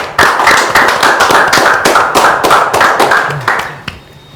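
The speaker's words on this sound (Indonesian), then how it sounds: "Tepuk tangan dulu kita." A small gathering bursts into steady applause, many hands clapping loudly and evenly for about four seconds before tapering off, with a faint voice at the end.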